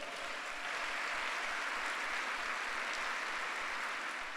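A church congregation claps for the Lord during a Sunday worship service, a dense, steady wash of applause filling the room at a faint, distant level with no talk over it.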